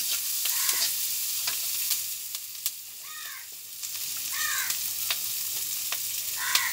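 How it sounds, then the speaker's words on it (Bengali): Green chilies and onions are stirred in a pan for a chicken and potato curry, giving a steady sizzling hiss with repeated scraping strokes and a few chirping sounds in the background. "এরপর একে একে দিয়ে দিচ্ছি কাঁচামরিচ, পেঁয়াজ, একটু হালকা নেড়ে নেব"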